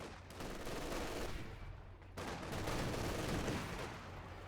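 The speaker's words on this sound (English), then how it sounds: "We have the incendiary artillery barrage." Incendiary artillery barrage in a strategy video game, a dense rumbling rush of repeated blasts and crackling impacts that swells, briefly dips, then surges again, moderately quiet overall.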